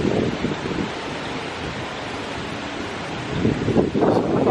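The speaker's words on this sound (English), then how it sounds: "The wind is blowing hard." Strong wind blows hard outdoors as a steady, loud roar with a gust swelling near the end, close to the microphone and with no voices.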